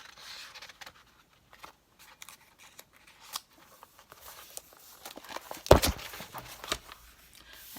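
Scissors trim paper for a collage in a string of small, crisp snips and rustles, quiet and close, with one sharper louder cut partway through.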